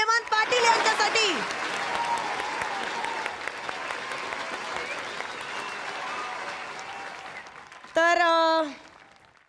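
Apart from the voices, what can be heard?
audience applause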